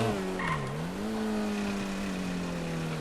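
Car in a city farming video game, a steady engine drone with a pitch that dips and then climbs and holds, continuous and fairly loud, with no talking.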